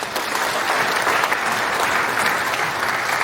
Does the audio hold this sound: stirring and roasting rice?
no